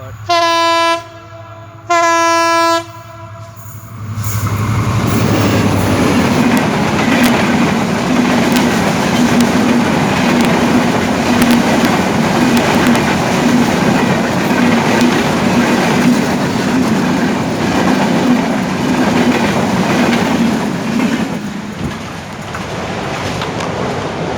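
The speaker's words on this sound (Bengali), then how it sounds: "আপনারা দেখতে পারলেন সেই ট্রেনটি চলে গেল" A train sounds two long horn blasts, then passes along a railway line with a loud sustained rumble and rhythmic clatter of wheels over the track for about twenty seconds before fading.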